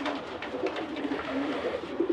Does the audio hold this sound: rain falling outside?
no